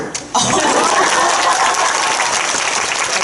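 Audience in a hall breaks into loud group clapping together during a Korean film live talk event, a dense sustained wash of applause starting abruptly after a brief moment.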